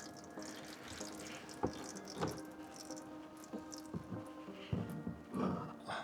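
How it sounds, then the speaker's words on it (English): Old engine oil drains from a Porsche Cayman 987.1 into a catch pan, a faint, close trickle with scattered irregular drips and splashes. "make sure you let it drain all the way out, because you want all that old oil to just be completely drained"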